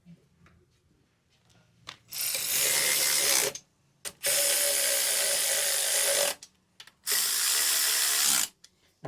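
A ratchet tightens the 10mm nuts on the flame arrestor mounting bracket of a MerCruiser 383 MAG Stroker marine engine, in three long, loud, rapid clicking bursts separated by short pauses.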